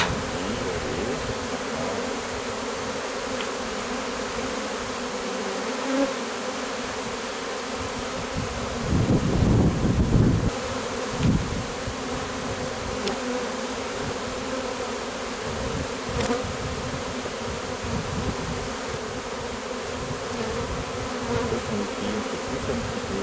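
Honeybee swarm at an apiary in a meadow, a dense continuous buzzing drone close by, swelling louder for a few seconds midway.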